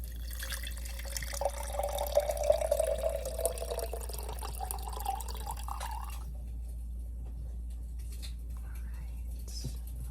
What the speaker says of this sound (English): And now we add the water.